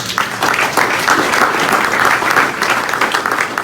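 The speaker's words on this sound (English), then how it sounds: "About a round of applause for that." Loud, dense audience applause at a hall of fame ceremony, a continuous wash of many hands clapping close by with no break across the whole stretch.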